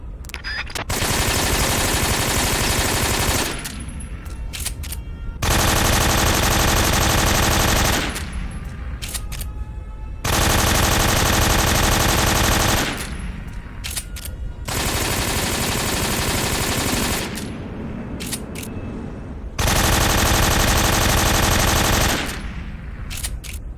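Loud assault rifle fire from Metal Gear Solid 3 comes in five long, sustained automatic bursts of a few seconds each, separated by short pauses with faint mechanical clicks.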